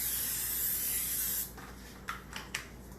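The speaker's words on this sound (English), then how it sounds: "We're going to spray the casserole dish down a little bit." Cooking spray hisses in one steady, close burst onto a casserole dish for about a second and a half while lasagna rolls are prepared, followed by a few faint kitchen clicks and taps.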